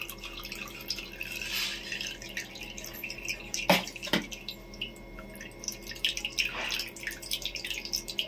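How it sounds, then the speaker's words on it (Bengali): Ground mustard paste is strained for a raw-spice small-fish curry, with liquid dripping and trickling close by in irregular soft drops and a couple of sharper taps, fairly quiet throughout. "আমি সর্ষে বেটে রেখেছিলাম, এটা ছেঁকে দিচ্ছি।"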